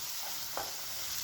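Kashmiri red chilli powder and coriander-cumin masala are stirred in a hot pan for a brief, soft scrape over a steady sizzling hiss.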